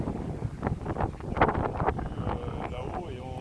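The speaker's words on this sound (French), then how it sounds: "Le vent, il vient un peu du sud-ouest là." Wind blowing from the southwest buffets the microphone during a flight over countryside. Continuous rough gusting noise fills the stretch, and a voice talks faintly beneath it.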